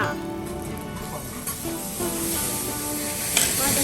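Steady loud sizzling of soba noodles stir-fried with rice, minced pork and vegetables on a hot griddle in Kobe, with scraping and stirring noises throughout.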